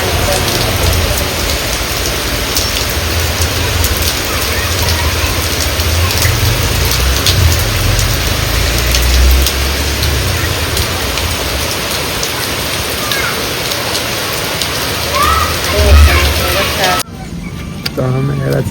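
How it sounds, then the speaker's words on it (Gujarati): Heavy rain pours outside in a loud, dense, unbroken roar that fills the whole stretch before cutting off abruptly near the end. "આજે તો વરસાદ આવ્યો છે બહુ મસ્ત મજાનો."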